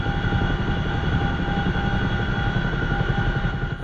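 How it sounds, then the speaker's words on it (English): A helicopter in the flight simulator DCS World drones steadily with a constant rotor and turbine whine, loud and unbroken throughout, with no one talking. "That's the helicopter, not me."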